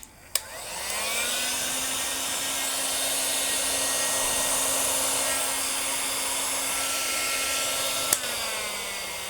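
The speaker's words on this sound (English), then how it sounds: "let the heat gun run for a few seconds just to get warm" A heat gun, used to strip edging from melamine cupboards, clicks on and whirs with a steady blowing hum for several seconds, then clicks off; it is close and there is no talk.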